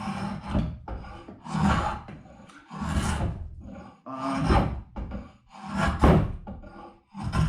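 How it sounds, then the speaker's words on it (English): A draw knife pulled back across wood takes off shavings for traditional chair making, making long, rough rasping strokes, about six in a steady rhythm, close and clear with no talking. "Same thing with the draw knife, and I'm just pulling back and getting these nice shavings off."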